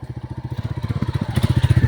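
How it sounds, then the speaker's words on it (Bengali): A motorbike passes close by on a lakeside path, its engine putting out a fast, regular putter that grows louder over two seconds. "এইখান দিয়ে আবার বাইকও যায় দেখ"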